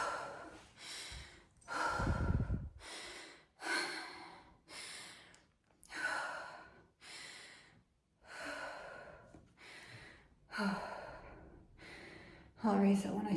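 Heavy, labored breathing from a person with a lung condition after climbing six stories: about a dozen deep, close breaths in a slow, uneven rhythm, some ending in sighs or gasps.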